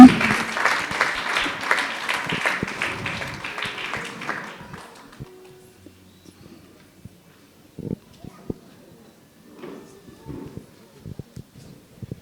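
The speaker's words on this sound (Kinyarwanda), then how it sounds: "Reka twongere umubyeyi tumukomera amashyi menshi." An audience applauds in a burst of dense clapping that fades out over about five seconds, followed by sparse knocks and faint scattered sounds in a quiet room.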